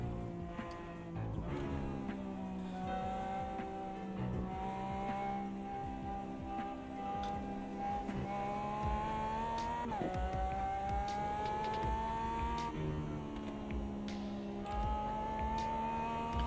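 A Lamborghini race car engine in the Automobilista 2 sim racing game drones continuously for sixteen seconds, its pitch climbing through the gears with abrupt drops at each upshift, loud and steady throughout.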